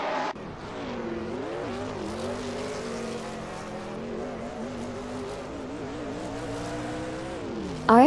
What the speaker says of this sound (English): we're watching some racing cars driven by artificial intelligence in a racing simulator